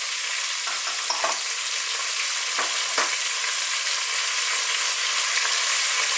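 Celery and garlic fry in a pan for an Italian chicken and leek stew, a steady loud sizzle with a few soft stirring scrapes, no talking.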